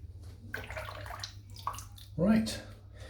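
Water runs over a Schick Krona safety razor as it is rinsed, a close sloshing and splashing in short bursts, with someone speaking at the same time.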